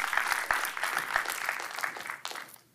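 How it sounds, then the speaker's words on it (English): Scattered clapping from a small church congregation, uneven and fairly quiet, tapering off near the end. "let's give God a strong hand clap."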